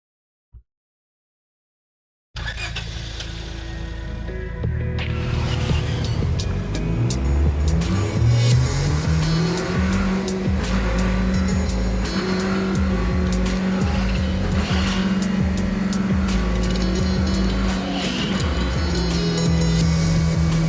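Video game car on a test drive, engine roaring steadily after a short silent start, with shifting revs and tire squeal over continuous loud motor noise and no talk.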